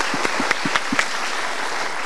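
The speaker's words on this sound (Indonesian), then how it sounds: "untuk mereka kita berikan tepuk tangan dulu" Brief applause from a studio audience at a motivational talk show, a few sharp claps standing out over a soft spread of clapping.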